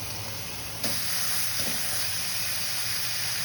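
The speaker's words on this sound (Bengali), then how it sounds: "আবার আমি তেল দিয়ে দিলাম, দিয়ে দেবো পেঁয়াজ কুচি আর ঝাল কুচি" Chopped onion and green chilli fry in hot oil with a continuous, even sizzle and hiss, with a slight shift in the texture partway through.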